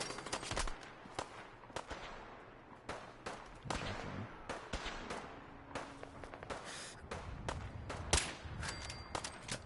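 Gunfire in Fallout 4 on survival difficulty with one-handed weapons, a rapid string of sharp cracking shots in uneven bursts, some close and loud, others more distant, running throughout with brief gaps between volleys.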